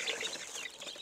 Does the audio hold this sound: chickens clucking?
yes